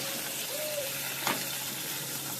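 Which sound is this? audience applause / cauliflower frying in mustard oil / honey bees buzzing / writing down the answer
cauliflower frying in mustard oil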